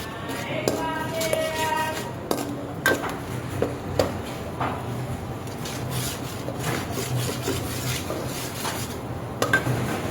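Ginger-garlic paste being sautéed in a pan for white pulao, repeated scraping and rubbing strokes of a utensil over a soft continuous sizzle, close and steady throughout.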